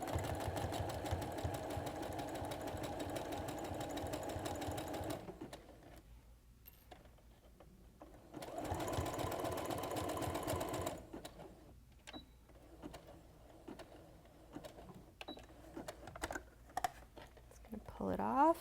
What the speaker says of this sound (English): using a zigzag stitch, and then at the same time do an overcast stitch